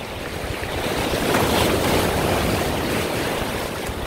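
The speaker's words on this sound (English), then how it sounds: "So it's about trying to get past the waves." Rough sea on a wild swimming day, with a continuous roar of surf and breaking waves that swells slightly in the middle, heard from the shore with wind buffeting the microphone and no talk.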